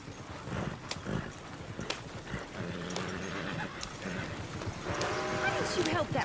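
Horse hooves clip-clop in the Red Dead Redemption video game, a steady rhythmic trot under game dialogue, with a whinny rising near the end.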